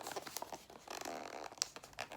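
Crinkly plastic packaging of a silicone menstrual cup rustles and tears close up, with scattered crackles and one sharper snap partway through.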